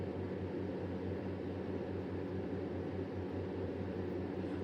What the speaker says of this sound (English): I'm so sorry for the noise with the fan